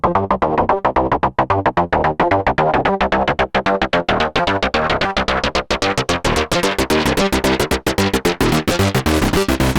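An acid-style synth patch with tweaked linear FM and phase modulation plays a fast, loud, driving sequence of sharp repeated notes, buzzing and squelchy, with no voices.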